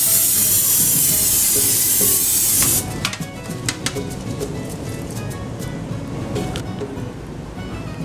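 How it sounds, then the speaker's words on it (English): Non-stick cooking spray hisses onto a baking sheet in one loud, continuous burst of nearly three seconds, then stops, leaving quieter kitchen noise and a few light taps. "I'm going to spray it with some non-stick cooking spray."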